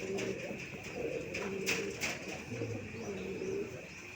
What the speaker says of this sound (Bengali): এই আমাদের দেশীয় রাজগোল্লা কবুতরগুলো